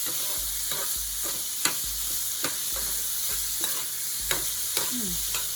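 Pigeon peas cooking in a pot before any liquid goes in, for Puerto Rican arroz con gandules: a steady low sizzle with a spoon stirring and scraping at regular intervals, close and with no talking.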